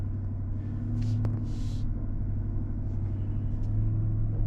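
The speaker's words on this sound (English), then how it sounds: "We're in 4-wheel drive high, terrain mode. Terrain mode automatically turns off traction control, and we're doing the steep hill climb" A 2021 Cadillac Escalade crawling up a steep off-road hill in four-wheel-drive high with terrain mode gives a steady, low engine rumble heard from inside the cabin, with faint knocks over the constant drone.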